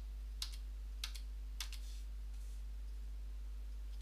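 Computer keyboard keys pressed in a quiet room, three distinct clicks about half a second apart followed by a faint softer tap, close and isolated against a low steady hum.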